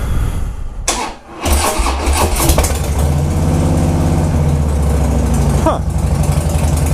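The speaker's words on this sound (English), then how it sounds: "this is also the first time I'm starting it up without a top muffler here" A 2017 Harley-Davidson Dyna Street Bob with its top muffler removed cranks and fires, then settles into a loud, loping V-twin idle with a brief blip of throttle near the end.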